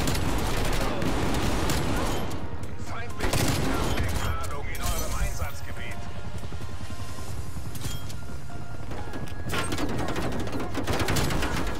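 Gunfire comes from a weapon in the game Call of Duty: Cold War, with rapid loud bursts and shots that keep going through the whole stretch alongside clattering action sounds, while players talk over it.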